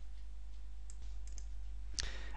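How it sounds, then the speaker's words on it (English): Computer mouse clicks on a trading chart, a few faint, sharp ticks spaced apart over a steady low hum, with no talking. "Right mouse click,"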